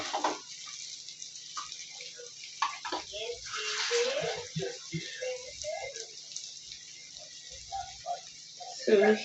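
Water runs and splashes into a pan of masala pork cooking on low heat, a faint irregular trickling and bubbling under quiet talk, with a brief louder splash near the end.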